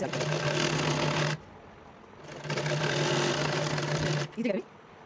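A sewing machine stitches a small child's kurta along a buckram-shaped neckline in two bursts of steady whirring, close and loud, with a brief pause between and a short voice near the end.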